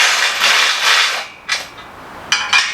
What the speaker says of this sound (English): This is my new electric ratchet, and I want to give this a shot,